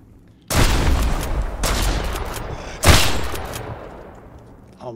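Gunfire in the survival video game Mist Survival: two sharp, loud shots about two seconds apart, each followed by a long decaying echo, with no talk.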